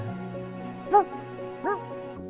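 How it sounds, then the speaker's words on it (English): A stock-audio dog bark in a product video for a pet device, heard as two short, tonal, whimpering barks a moment apart, clear and fairly close over a steady electronic hum. "I could tell from that dog barking sound that they just took like a sound from"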